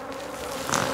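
Honey bees buzz steadily around a beehive during spring swarm preparation, a dense continuous hum with a slightly louder burst near the end, no voices.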